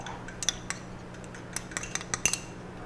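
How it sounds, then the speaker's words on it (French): A spoon clinks lightly against a pan while a spoonful of Dijon mustard is added to cream, a few faint scattered metallic taps over a quiet background. "à l'aide d'une cuillère, on met une belle cuillère de moutarde"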